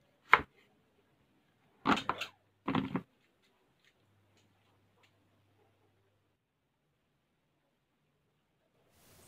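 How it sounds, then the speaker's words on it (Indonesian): Young jackfruit, not very large, being chopped into fairly big pieces: a single knife strike, then two short bursts of heavy cuts, each a few quick chops, followed by near silence. "Kita potong-potong dengan ukuran yang sedikit besar saja potongannya."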